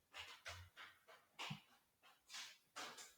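A dog pants rapidly indoors, short breathy bursts in a steady rhythm with faint whimpers mixed in, close and fairly quiet, with no one talking.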